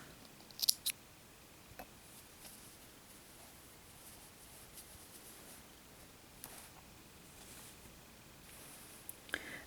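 Scissors snipping off crochet sparkle yarn from a finished poppy flower, a quick pair of sharp close snips near the start, then faint handling sounds over low background hiss.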